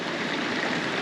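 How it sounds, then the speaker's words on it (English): Heavy rain pours steadily outside an RV, a dense, continuous hiss of water that stays loud and even throughout the short stretch with no voices. "Here it comes. Yay, rain."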